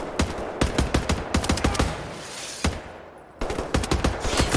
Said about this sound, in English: Doing these short bursts, it's far more accurate.